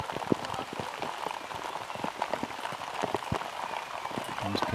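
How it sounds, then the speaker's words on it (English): Heavy rain pours down during a T10 cricket match in Milan, Italy, a dense steady hiss with scattered sharp drop impacts continuing throughout at moderate level. "The rain is starting to come down"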